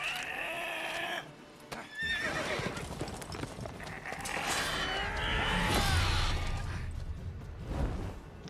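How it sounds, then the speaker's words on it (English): A horse in The Witcher 3: Wild Hunt neighs and whinnies loudly several times over clip-clopping hooves, with dense game sound effects around it and no talk. "A poor horse."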